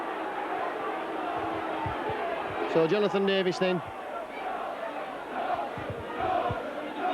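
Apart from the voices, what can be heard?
rugby league crowd reacting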